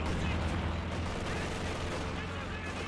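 German Grenadiers firing rifles at a Soviet ZiS gun crew in Company of Heroes 2, with steady, dense battle noise and crackling gunfire throughout and no clear pauses.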